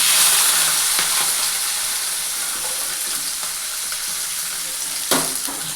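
Cumin, mustard seeds, fenugreek and peppercorns fry in hot oil with a loud, steady sizzle and faint crackles, alone and close up.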